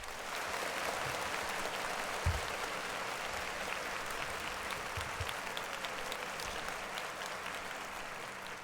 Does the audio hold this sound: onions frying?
no